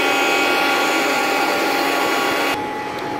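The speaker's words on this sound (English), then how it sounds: "Sorry about the vacuum." A vacuum cleaner runs on the floors of a home, a loud steady whine and roar close by that drops suddenly in strength near the end, with no talk.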